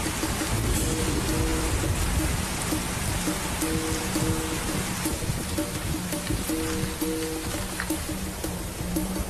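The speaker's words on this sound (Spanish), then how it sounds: "Y se suceden los intensos aguaceros." Heavy tropical downpour in northern Australia's wet season, a dense, loud, continuous roar of rain pounding surfaces with no pauses and no voices.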